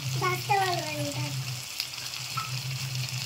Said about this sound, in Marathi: आता आपला मालवणी मसाला टाकूया.